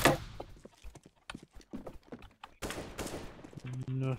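Gunfire from the video game Counter-Strike: Global Offensive cracks in quick bursts under an excited voice, with sharp shots clustered together and a harsher volley near the end.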